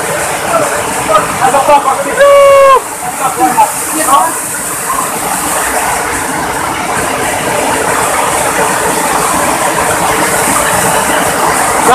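Taligsik Falls, a hidden waterfall in Barangay Pangawan, Magpet, gives a steady, loud rushing roar throughout, with a few brief chirps and squeaks early on.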